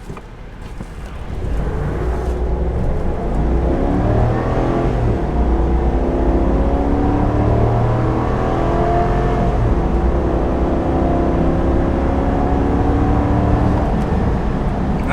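2022 Chevy Silverado 2500 HD with the 6.6L gas V8 accelerating hard from a stop to 60 mph: loud engine roar climbing in pitch through several upshifts, heard from inside the cab with steady road and wind noise.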